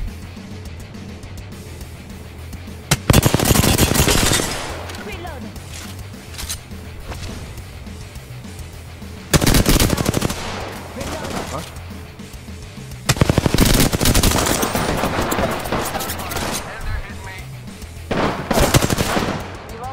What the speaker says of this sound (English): There's shots to the east too.